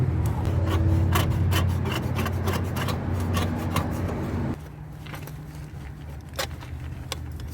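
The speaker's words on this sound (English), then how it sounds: "we're just cutting off the excess we don't need from our bigger piece" Excess sheet metal being cut away for a 1977 Mercury Cougar quarter panel repair, a continuous close grinding, rasping drone with ticking strokes that drops in level about halfway through.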